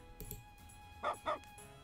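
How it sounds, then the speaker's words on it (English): A puppy in the video game Carpe Diem Reboot gives two quick, high yipping barks in close succession over quiet background tones. "The puppy on Crump's shoulder greets her back with a bark."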